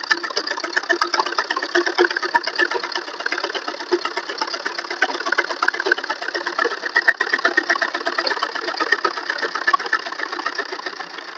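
A sewing machine runs steadily while stitching a folded buckram-lined hem for the cuff of a four-panel (char kali) salwar, a continuous close whirring with a fast even stitch rhythm and no talk.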